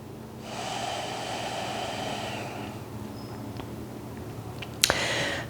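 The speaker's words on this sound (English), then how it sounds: "See if you can find sort of a sustainable rhythm with the inhales and exhales." A slow, steady breath during a yoga flow, with a long airy exhale that fades into quieter breathing and then a sudden short sniff or snort near the end, close and soft, with no talking.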